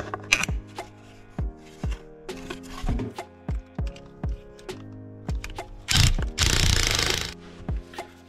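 A power drill drives flathead screws from the inside of an off-road vehicle while a Badland wireless winch control is fitted, giving short repeated bursts with clicks and knocks between them and one longer whir near the end.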